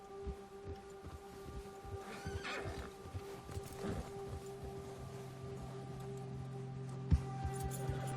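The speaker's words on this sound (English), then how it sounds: "Veloz asustó tu caballo." A spooked horse in Red Dead Redemption whinnies and neighs while its hooves clip-clop along a trail, with steady game ambience and a sharp thump near the end.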